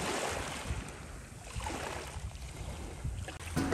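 Waves wash over a pebble beach on the Korean coast, a steady rushing hiss of surf with low rumbling surges and some wind noise, continuous and fairly distant, with no voices.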